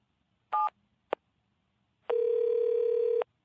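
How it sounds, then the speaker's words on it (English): Telephone being dialed for a home number: two brief button tones, a short pause, then a long steady ringback-like tone lasting about a second, close and clean with no talk. "Mr. Williams picked up the phone and dialed his home number."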